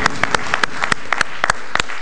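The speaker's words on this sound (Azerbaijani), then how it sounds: "alqışlar" Scattered hand claps ring out in a loose, uneven rhythm, a dozen or so sharp individual claps rather than a full crowd, over a faint background hum.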